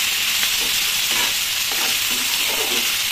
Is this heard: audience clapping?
no